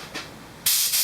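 A compressor-fed air nozzle on a Snow Performance injection setup gives a short, loud, close burst of compressed-air hiss after a faint puff, then holds a strong spray hiss.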